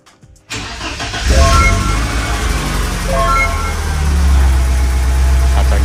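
A BMW E30 with a fresh 70-ampere Silver Dynamic battery cranks briefly on its starter and catches, settling into a loud, steady idle close by.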